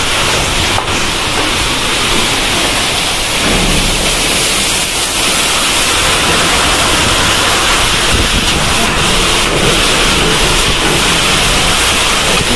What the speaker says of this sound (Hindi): इतना तेज मार रही है, इतना तेज और हवा भी बहुत तेज है